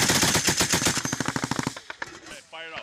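A US Army M240 or M249 machine gun fires a long rapid burst of evenly spaced, loud shots, then a few scattered rounds trail off and a voice shouts briefly at the end.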